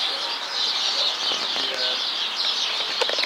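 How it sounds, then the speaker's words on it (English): Many birds chirp and twitter at once in a dense, continuous chorus, with occasional flutters and sharper calls cutting through. "Listen to all the birds."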